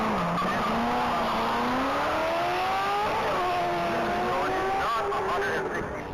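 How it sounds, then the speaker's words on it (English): A 2016 Corvette Stingray race car making around 500 horsepower runs at a top-speed mile event, its engine note rising in a loud, continuous drone, with commentary talk over it. "That's a 2016 Corvette Stingray. That Stingray is putting in around 500 horsepower."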